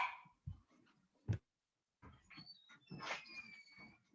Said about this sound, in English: Somebody's ringing my doorbell and the dogs are going nuts.